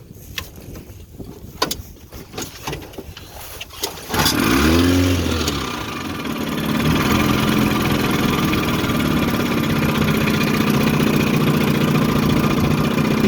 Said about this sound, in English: I'll fire it up and take her for a run across the lake